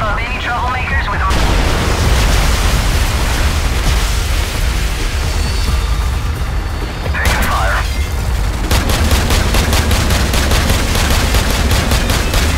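Loud, sustained gunfire in a Call of Duty 4: Modern Warfare battle, continuous automatic bursts and booms with a rapid rattling burst near the end, with brief voice chatter mixed in.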